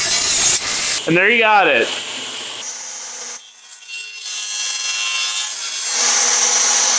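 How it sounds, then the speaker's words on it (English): A table saw spins up and cuts wood splines, a loud sustained whine with a falling pitch sweep, then a steady running drone, and a voice speaks briefly over it. "Turn on our table saw."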